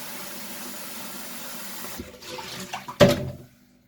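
Tap water runs into a glass baking dish being filled to soak sliced potatoes, a short hissing pour rising near the end amid quiet kitchen background.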